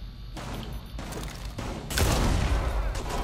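Gunfire rings out in the video game Rainbow Six Siege, with a rapid fusillade of shots that swells louder midway through, dense and continuous over a low background.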